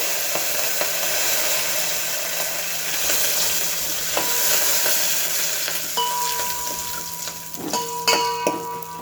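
Ajwain seeds and curry leaves hitting hot oil for a South Indian rasam tempering give a steady, close, loud sizzle with crackling bursts and a few sharp pops near the end, with no voices.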